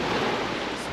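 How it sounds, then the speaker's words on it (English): Ocean waves crash and wash on Kangaroo Island's coast in a continuous roar, close and loud, with a windy hiss across the whole second. "the waves are crashing behind me"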